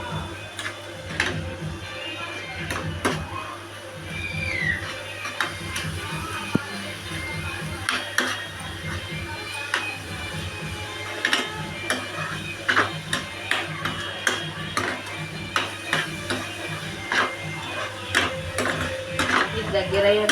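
A spoon scrapes and taps against a pot while a sugar mixture is stirred, giving irregular clinks and scrapes over a low steady hum, with kitchen noise around it.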